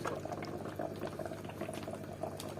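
Aquarium water bubbles in a steady, faint, continuous gurgle from the tank's aeration, heard alone without talk.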